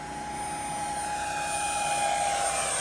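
A Xane camo MB-339 50mm RC electric ducted fan jet passes at full throttle, its high whine rising and swelling steadily louder as it flies in close, with no talk over it.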